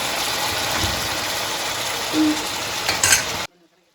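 Chicken frying in a pan for a mint chicken fry, a steady broadband sizzle with some stirring before it cuts off abruptly near the end.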